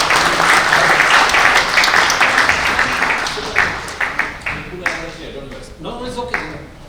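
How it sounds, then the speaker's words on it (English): An audience applauds at a concluding session, loud dense clapping that thins out after a few seconds into scattered individual claps, with a voice talking as it fades. "Let's give her a round of applause."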